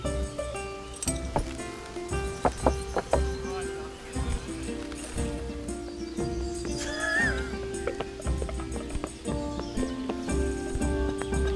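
Horse in the Kingdom Come: Deliverance video game, with a distinct whinny partway through over a steady bed of hoof clops and game ambience, while a voice talks intermittently.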